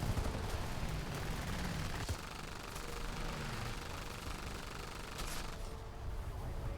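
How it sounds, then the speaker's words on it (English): Aircraft gunfire in War Thunder among French planes, quick bursts of rattling shots over a constant engine drone, moderately loud with no speech. "Oh, he's shooting me."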